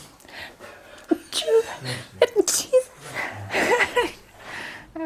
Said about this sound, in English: There's like 5. 5 sneezes.